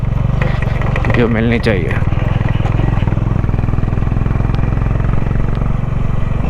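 A Honda Highness CB350 motorcycle engine runs hard at high altitude in Ladakh, short on power in the thin air. It makes a loud, steady drone throughout while someone talks over it.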